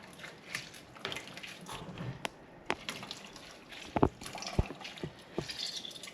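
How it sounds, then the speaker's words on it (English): Grated coconut is squeezed by hand in warm water to press out the milk, with soft wet squelches, drips and trickles in an irregular, close and fairly quiet stream. "So it's actually squeezing the coconut."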